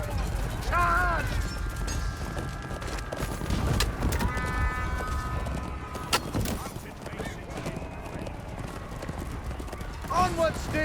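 Cavalry horses gallop in The Bloody Crown of Conan, a steady clatter of hooves with whinnies under battle noise, while voices shout over the charge.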